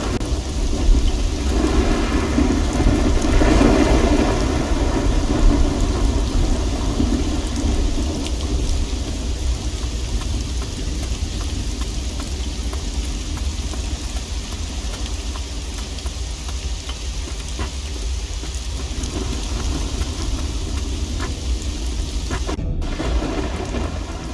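A thunderstorm in the video game Risen 2 brings steady heavy rain with rolling rumbles of thunder, loud and continuous, the thunder swelling early before settling under the constant downpour.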